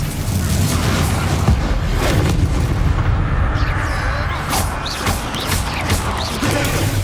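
Loud booming blasts and crackling combat effects from Hogwarts Legacy on PlayStation 5, a constant dense wall of spell explosions and impacts with no pauses.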